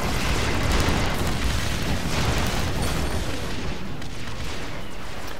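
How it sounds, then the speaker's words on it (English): Bombs exploding in the online strategy game AirMech, a dense, continuous wall of loud booming blasts and crackling bursts with no pauses, heard up close without speech. "They even bring bombs."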